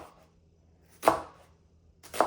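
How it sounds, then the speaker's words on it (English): A knife slices through a whole onion on a cutting board with two distinct crisp cuts about a second apart, each a sharp crunch ending in a knock on the board, quiet between strokes and no talk. "Get a nice onion there. And I'm not dicing this, I'm just slicing."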